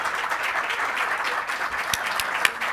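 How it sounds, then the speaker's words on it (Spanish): A conference audience gives a deputy steady applause for his birthday, a dense wash of clapping at moderate distance for a few seconds. "Démosle un fuerte aplauso por su cumpleaños."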